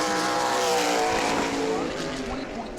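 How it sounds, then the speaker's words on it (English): A modified race car laps New Smyrna Speedway during qualifying, its loud engine roaring steadily at high revs and close by before easing off slightly, with a commentator talking over it. "Brad Bowman definitely looking for more here on lap number 2"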